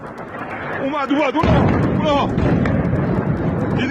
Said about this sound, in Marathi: मोठे स्फोट घडताना दिसत आहेत